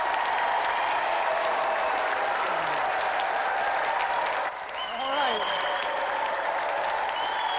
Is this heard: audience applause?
yes